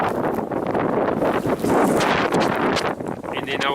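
Strong winter storm wind buffeting the microphone, a continuous loud roar and rumble with gusty surges and rustling, and no voices over it.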